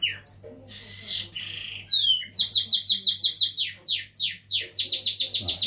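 Small birds in a canary breeder's indoor aviary sing loudly and close, with rapid repeated trills and bright chirping phrases following one another, over a faint steady low hum.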